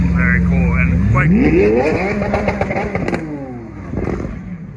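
A Lamborghini Revuelto supercar engine revs at its first public unveiling event, a loud rising rev sweep that swells and then trails off amid crowd chatter and voices.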